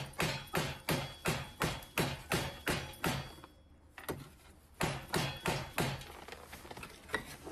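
An apple serves as a makeshift hammer nailing a wooden board together, making a steady series of loud, close knocks at a regular quick rhythm, with a brief pause midway before the blows resume.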